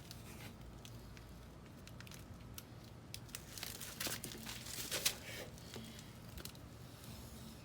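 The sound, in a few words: wrapping masking tape around a car wheel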